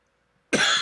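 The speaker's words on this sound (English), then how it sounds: "I get worked up. I start coughing." A single sharp, loud cough bursts out after a brief near-silence, close to the listener.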